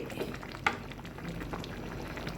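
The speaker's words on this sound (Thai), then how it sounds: "เดือดสวยงาม" Pork bone coconut curry with bamboo shoots simmers at a boil in a pot, a faint, steady bubbling with soft pops and one sharper clink near the start.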